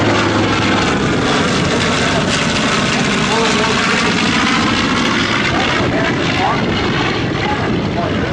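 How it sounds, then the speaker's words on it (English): A twin-engine Douglas PBJ Devil Dog, the Marine Corps warbird, roars loudly overhead at an airshow, a continuous propeller-engine drone filling the whole stretch with a commentator's voice over it. "Devil Dog, the Marine Corps PBJ. Twin-engine airplane, yet another Douglas design."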